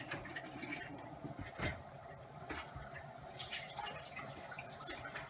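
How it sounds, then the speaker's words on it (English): Sticky rice bubbles gently in its cooking water on low heat, a continuous close wash of small pops and drips with a few louder bursts, steady and unaccompanied by talk. "I'm just going to turn down the heat and let it simmer."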